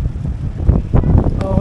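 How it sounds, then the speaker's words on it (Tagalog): Strong wind at a viewpoint overlooking Taal Lake and Mount Macolod, Batangas, buffets the microphone in loud, uneven gusts, roaring and rumbling throughout. "Lakas na hangin."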